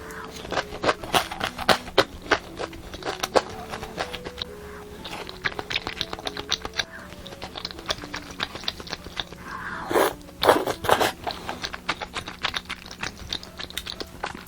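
Close crunching and chewing of a fried squid snack from an air fryer, with rapid irregular crackles throughout and a louder burst of bites near the end; background music plays underneath.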